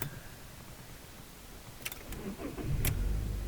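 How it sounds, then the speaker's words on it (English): A car starting up during winter preparation: a few faint clicks, then a brief crank as the engine catches into a low, steady idle rumble nearby, with no speech. "Next, start up your car"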